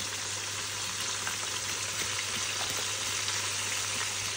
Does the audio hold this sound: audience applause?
no